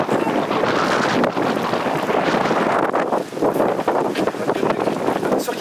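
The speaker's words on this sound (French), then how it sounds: "tu vas voir avec le vent qu'il y a" Strong gusting wind during an orange weather alert in Ardèche, buffeting the microphone as a loud continuous roar with surges and brief lulls, no speech.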